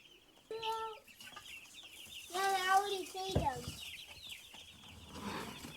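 Hens cluck and squawk nearby in short bursts while being fed on a farmyard, with faint voices and outdoor rustling in the background.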